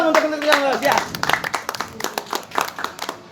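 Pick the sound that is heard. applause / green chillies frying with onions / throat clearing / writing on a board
applause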